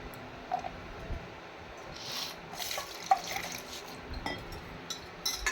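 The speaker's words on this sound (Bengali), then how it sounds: "জলে ভালো করে ধুয়ে নেব।" Chopped raw mango pieces are rinsed in water, giving soft splashing and trickling with faint drips and tap-like running water at a low, steady level, with no voices.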